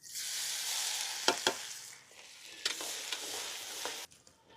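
Chopped garlic frying with cumin, mustard seeds and curry leaves for lasooni methi masala, a bright sizzle broken by several sharp scraping strokes of a spoon, then dropping off near the end.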